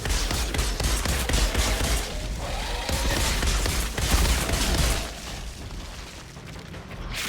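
Dense gunfire and booms from the video game Outriders, loud sustained shooting and blasts packed together, easing slightly in the final seconds.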